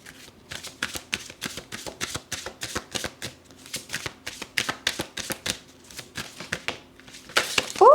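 Tarot cards are shuffled by hand in quick, rhythmic riffling bursts, close and crisp, ending in a louder flurry of card handling.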